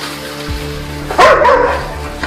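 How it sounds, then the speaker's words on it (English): A dog barks loudly and excitedly close by, a short burst of sharp barks after a brief thump. "I told you my dog goes crazy."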